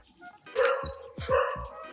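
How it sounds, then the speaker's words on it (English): A couple of dogs bark close by in quick, overlapping yaps, loud and excited, with a short pause between bursts. "The dogs are barking."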